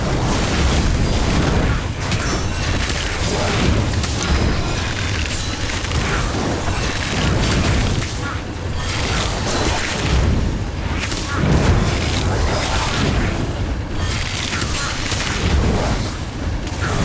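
The Incendio fire spell in Harry Potter: Magic Awakened rages as a dense, loud roar of booming, crackling blasts, layered with other game effects and continuing for the whole stretch.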